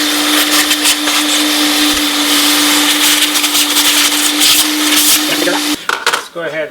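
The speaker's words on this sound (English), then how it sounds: "So we got the shop vac here." A shop vac runs with a loud, steady whine and hum while cleaning a Hakko FR400 desolder station, then cuts off abruptly, followed by a few clattering handling sounds.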